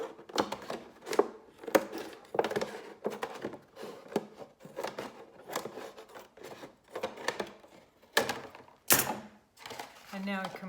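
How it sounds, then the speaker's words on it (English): Scissors snip around a plastic milk bottle along a marker-drawn line, giving quiet, irregular crunchy cuts and plasticky clicks with brief pauses between strokes. "I'm going to cut it around on the black line that I've drawn with my Sharpie"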